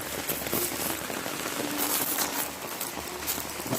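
Steady heavy rain pattering on surfaces during days of flooding in a Quezon City neighbourhood, a dense continuous hiss heard close and fairly loud throughout.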